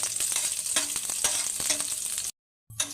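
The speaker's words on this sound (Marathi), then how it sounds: "लसूण थोडंसं मी परतून घेणार आहे." Chopped garlic sizzles in hot oil in a pan for lasuni methi, a bright, crackling fry with quick stirring scrapes, close and loud, stopping briefly before resuming.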